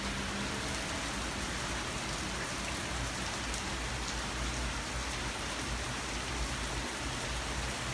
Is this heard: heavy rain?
yes